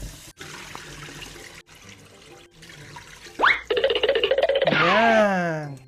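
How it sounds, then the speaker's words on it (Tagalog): Rice being washed by hand with water in a bowl: soft swishing and trickling, then a burst of pouring water and gurgling splashes that fills the last couple of seconds, fairly close. "So hugasan na natin itong bigas."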